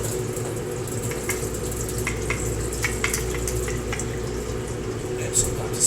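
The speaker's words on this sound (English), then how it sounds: "the brine is going into a bowl below the strainer" Fermented pepper brine is poured through a strainer into a bowl below, a soft continuous splashing trickle with scattered drips, close and moderate, while a person talks over it.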